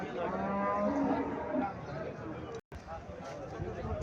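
Cow lowing at a cattle market in Chandimura, Cumilla, a low mooing call in the first seconds amid busy market murmur and voices, with a brief dropout partway.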